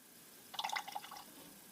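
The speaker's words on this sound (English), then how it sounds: "you're going to want to open up the 6mm drain and let the excess fluid drain off" Excess automatic transmission fluid trickles from the opened 6 mm drain of a Toyota transmission, giving a short, faint burst of dripping and splashing liquid that stops after about half a second.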